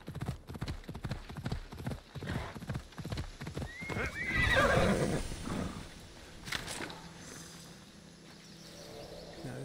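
A horse galloping on flat ground in Assassin's Creed Odyssey: hoofbeats clop quickly and evenly, a loud whinny in the middle, then quieter clopping fades under a soft background.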